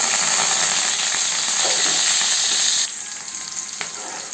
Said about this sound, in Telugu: అంతా ఇట్లా వేగే వేగినంత వరకు వేయించుకొని